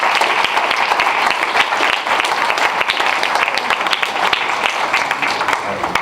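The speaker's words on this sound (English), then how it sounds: "Give them a round of applause." A crowd of parents and guests gives a sustained round of applause for seniors at a college signing day event, dense clapping filling the room evenly from start to finish.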